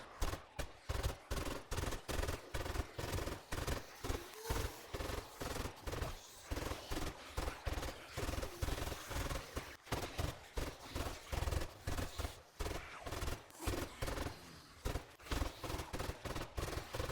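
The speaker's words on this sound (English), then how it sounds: "let's go shoot at these idiots. Yep, we can pretty much just 1 or 2 shots into them, they're dead" Rapid, steady bursts of gunfire in the zombie survival game 7 Days To Die, loud and close, with shots repeating in a tight rhythm almost without pause.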